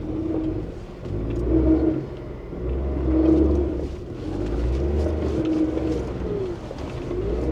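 A car engine labours on an offroad track, rumbling and revving in uneven surges that swell and ease every second or two, fairly close and loud, with faint bird calls in the background.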